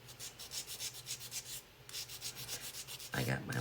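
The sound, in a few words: sanding off painted letters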